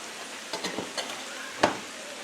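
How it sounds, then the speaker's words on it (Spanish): Spatula stirring and tossing a sautéed stir-fry together with white rice in a pan for Peruvian arroz chaufa, giving soft scrapes and light sizzle with one sharper clank near the end. "Entonces vamos a mezclar el salteado con el arroz blanco"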